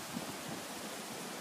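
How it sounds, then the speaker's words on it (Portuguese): Strong wind blowing steadily over an outdoor fishing spot in open nature, a continuous broadband rush with small gusts, close and fairly loud, no voices. "Vento batendo forte"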